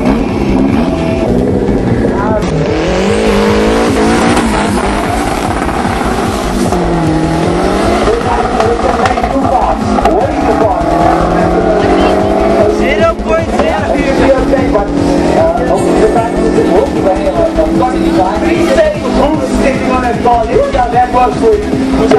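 Drag race cars at a strip event at Saldanha roar loudly and continuously, their engine notes rising and shifting as they run down the track, while people talk throughout.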